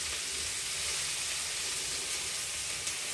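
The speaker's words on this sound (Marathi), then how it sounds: "हा भरपूर चिरलेला कांदा सगळा परतून घ्यायचा आहे आपण त्यातून" Plenty of sliced onions sautéing in hot tempering oil, giving a continuous close sizzle and hiss with faint stirring underneath and no voices.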